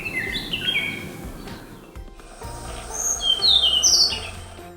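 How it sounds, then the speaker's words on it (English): Songbirds sing in a run of high, quick chirps and whistled phrases over faint outdoor background noise, with no voices. "songbirds can sing a large number of complex songs with perfect pitch and rhythm"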